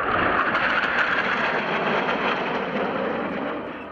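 Turkish Stars supersonic fighter jets in a flying display produce a loud, broad, continuous roaring rush that fades slightly toward the end, with no talking.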